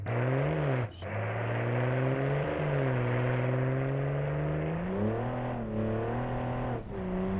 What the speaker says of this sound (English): it really does sound like a diesel. Listen to this.